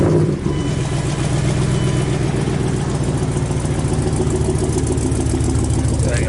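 A second-generation Dodge Ram 1500 truck engine runs at a loud, steady idle right after starting, a dense low rumble filling the whole stretch.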